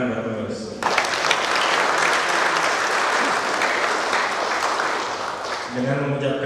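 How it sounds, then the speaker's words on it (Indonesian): An audience at a HIPMI Jaya board inauguration in Jakarta breaks into loud, close applause for the board members, a dense burst of clapping that rises suddenly and holds steady, with speech heard just before and after it. "Tepuk tangan buat pengurus."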